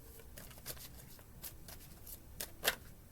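Tarot cards shuffled and riffled in a quiet room, a run of soft papery flicks and snaps with a sharper burst near the end, close and fairly faint.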